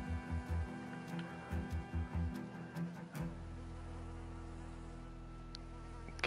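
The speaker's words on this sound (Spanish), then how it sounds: "Qué rápido salen las moscas aquí" Flies buzz in the video game DayZ, a close, steady insect drone with pulsing wingbeat bursts early on that then settle into a continuous hum.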